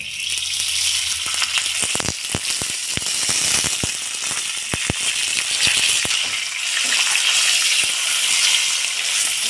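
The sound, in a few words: dry red chili and salt frying in oil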